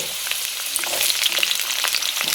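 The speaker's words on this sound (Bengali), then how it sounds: "মটর ডাল, তেজপাতা আর তোমার ছোট ছোট করে আলু আর জিরে ফোড়ন দিয়েছি।" Diced potatoes, matar dal and bay leaf frying in a cumin tempering, giving a loud, dense sizzle with crackling pops and occasional stirring, steady and close with no voices.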